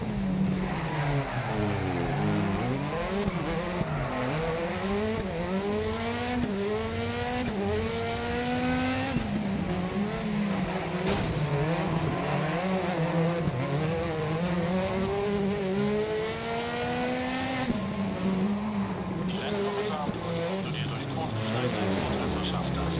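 A rally car engine in the racing game Dirt Rally revs and shifts repeatedly, its pitch rising and falling in sweeping waves through gear changes, loud and continuous, with a voice talking over it at times.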